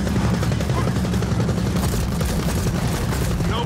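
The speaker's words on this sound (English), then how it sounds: "You just saw those shots I fired there." Dense, continuous gunfire from the Salvo weapon during a Gears of War 4 co-op campaign battle on Inconceivable difficulty, a loud sustained barrage of shots and booms filling the whole stretch with no pause.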